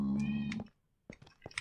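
A cat gives a couple of short, clear meows, one after another, with a few faint knocks and clicks between them.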